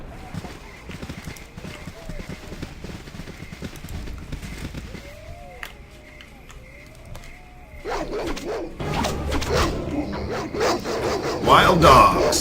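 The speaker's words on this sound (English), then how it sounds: "Wild dogs." Wild dogs barking in the Baldur's Gate: Enhanced Edition video game, scattered barks and yelps rising and growing louder toward the end, mixed with game ambience and a voice talking throughout.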